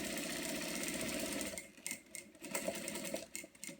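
A domestic sewing machine stitching fabric for a face mask, a rapid close mechanical whir that runs steadily and then breaks into short stop-and-start bursts.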